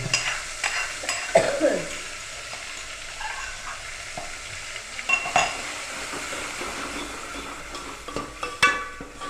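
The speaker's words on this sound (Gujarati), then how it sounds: "હવે વઘાર ચાલુ." A tempering sizzles in a pan for eggplant bharta, a continuous hiss of hot oil with scraping spatula strokes and occasional clinks of utensils, close-up and without any talking.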